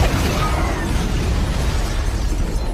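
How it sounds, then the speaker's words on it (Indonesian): Cannon fire aimed at a zombie king in a zombie film, a loud sustained blast with dense rumbling debris that fills the whole clip without fading. "langsung menembakkan meriam ke sang Raja Zombie"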